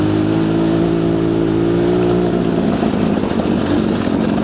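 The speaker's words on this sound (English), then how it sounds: "Luckily we have an off-road bike, so we can do that." Off-road motorbike on a rainy green lane, its engine loud and close, holding a steady drone before shifting into a rougher, throttled-up roar.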